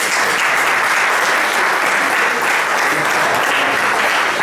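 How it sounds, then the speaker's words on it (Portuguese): An audience at an athletics awards ceremony gives a loud, sustained round of applause for the race walker Inês Henriques, a thick, steady wash of clapping that holds at full strength throughout. "Os nossos aplausos para Inês Henriques."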